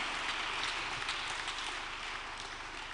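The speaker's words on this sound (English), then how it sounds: "I want to hear your clapping, somebody." A church congregation at a worship service claps continuously, a dense, steady wash of many hands that carries on throughout without pause.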